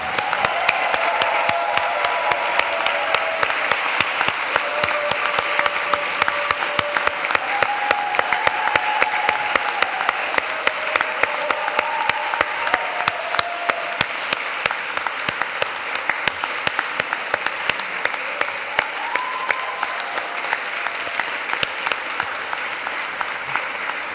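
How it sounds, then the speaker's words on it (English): Sustained audience applause fills a university graduation ceremony in Greenwich, loud, dense clapping continuing steadily throughout with faint crowd murmur beneath. "let's give you all a massive round of applause"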